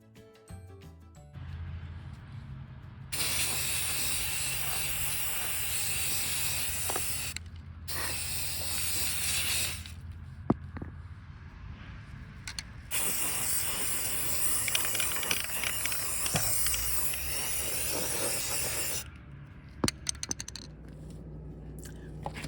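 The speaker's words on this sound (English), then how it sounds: "get it covered in a Rust-Oleum 2x cover in a glossy white" Rust-Oleum 2X glossy white spray paint hisses from a can onto a dollhouse outdoors in three long, steady bursts, with short pauses and faint handling clicks between them.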